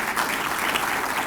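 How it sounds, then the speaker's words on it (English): Audience applause at a 2020 inaugural address, a steady, dense wash of clapping filling the whole moment at even loudness with no voices over it. "Give them a round of applause."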